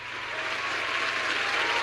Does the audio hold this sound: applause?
yes